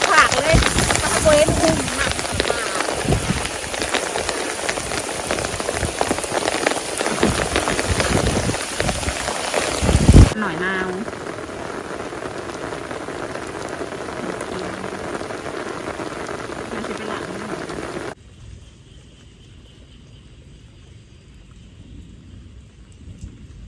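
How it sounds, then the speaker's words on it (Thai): Heavy rain pours steadily outdoors over rice fields, a dense loud hiss with a low thunder rumble, easing to a quieter patter for the final few seconds. "อากาศฝนตกมาเด้อพี่น้องมาตากฝน"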